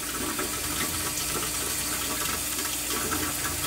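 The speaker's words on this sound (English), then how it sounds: "So you can hear the water draining out." Water drains steadily out of a freshwater turtle tank's sump during a water change, a continuous rushing, gurgling flow like a toilet or faucet, close and even throughout with no talk.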